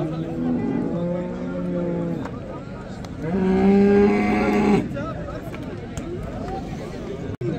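At a weekly livestock market in Settat, Morocco, a cow gives two loud, drawn-out moos, the second stronger, amid market bustle and nearby people talking.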